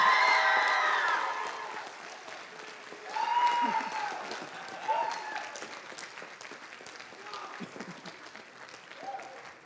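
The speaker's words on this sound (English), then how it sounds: "Can we get one more round of applause for Mr." Audience applause and cheering fill a school spring band concert, a fading burst of clapping with scattered whoops and voices that trails off into softer, thinner claps.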